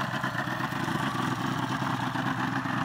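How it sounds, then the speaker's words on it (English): A Yamaha 130hp two-stroke outboard boat engine idles steadily just after starting from a couple of months in storage, a loud, even mid-pitched drone with a fine rattling pulse and no voices. "we uh, started her up. Just took two goes to get it going and she's idling beautifully after a couple of months in the shed"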